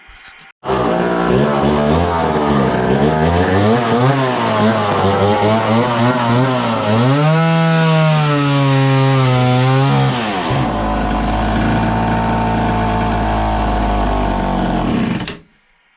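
Vintage Homelite chainsaw revving loudly up close, rising and falling in pitch, then settling into a heavier, rougher drone as it cuts into wood before cutting off abruptly.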